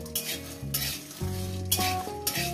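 Cashews dry-roasting in a dry pan over low heat, stirred with a utensil, with scraping strokes and clinks against the metal over a soft crackle, close and fairly quiet.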